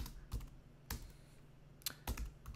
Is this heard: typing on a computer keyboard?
yes